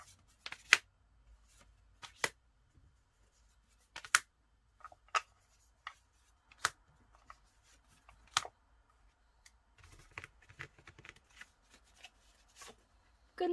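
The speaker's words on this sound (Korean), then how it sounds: "조언 카드 뽑아 볼게요." Tarot cards are shuffled and drawn by hand up close, giving sharp, scattered snaps and riffles with quiet pauses between them.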